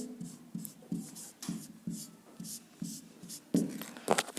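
A pen scratching out letters by hand on paper, in short rhythmic strokes with brief pauses, quiet and close, with faint speech in the background.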